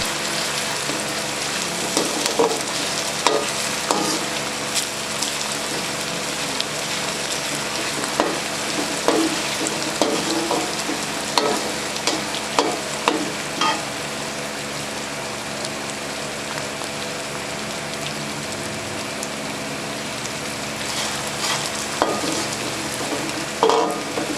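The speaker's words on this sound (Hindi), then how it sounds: "अच्छे तरीके से फ्राई करेंगे।" Steady sizzling of ginger and garlic frying in a pan, with occasional scrapes and stirring clinks over the constant crackle.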